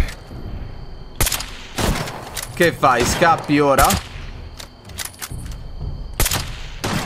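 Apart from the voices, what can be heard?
gunfire from enemies in video game Fallout 76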